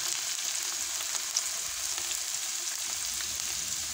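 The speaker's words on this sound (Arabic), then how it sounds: "وكنشحروا فيها داك البورو اللي قطعناه" Chopped leek frying in butter and a little oil in a pan, a steady close sizzle with faint stirring, continuous and even throughout with no talk.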